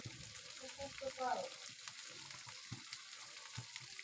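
Onion with ginger and garlic fries in oil in a pan, giving a soft, steady sizzle at close range that stays faint, with some muffled background movement.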